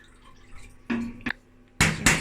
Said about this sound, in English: just going to put some water now to put the work balls into